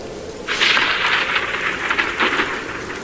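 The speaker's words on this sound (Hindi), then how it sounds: "बारिश भी होने लगी" Rain starts falling and continues as a steady hiss of drops at moderate loudness, close by, with no voices.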